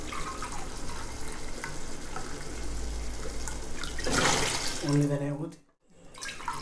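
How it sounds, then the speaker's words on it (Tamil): Mutton cooking water poured into a pot for Dindigul biryani, a steady close splashing pour that swells briefly, then cuts off near the end, with a voice talking over it. "இப்போ நம்ம மட்டன் வேக வச்ச பாருங்க அந்த தண்ணியை ஊத்திடலாம்"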